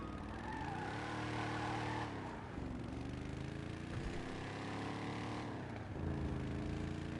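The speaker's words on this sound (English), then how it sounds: "So it's got the sounds of a muscle car." Muscle car engine in GTA Online rumbles steadily with a few dips and swells of revving, heard close and alone without talk.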